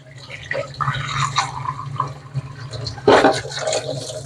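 Tap water runs and splashes over a stainless steel vacuum cleaner filter being rinsed inside and out, a steady close wash with a louder gush near the end and a low hum beneath.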